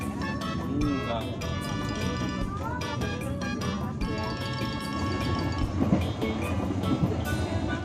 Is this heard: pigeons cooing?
no